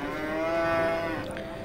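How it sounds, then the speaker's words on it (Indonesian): A single cow lowing at the Prambanan cattle market, a long loud moo with a steady tone that fades at the end, with faint market noise behind it. "jalan-jalan menelusuri kawasan atau area pasar sapi atau pasar hewan Prambanan teman-teman."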